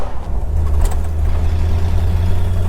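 A 1952 Ford F1 pickup's engine running close by, a steady low rumbling idle with a deep, even throb and faint mechanical noise above it, no speech.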